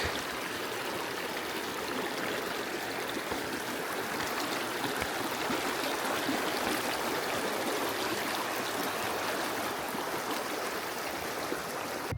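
A river stream in Ladakh rushes steadily and loudly, a constant broadband flow of water with no pauses.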